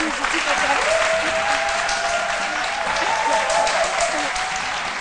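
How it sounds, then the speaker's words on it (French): Studio audience applauding on a French-language midday television talk show, dense sustained clapping that stays loud and even throughout, with faint tonal sounds running underneath. "on applaudit pour deux raisons"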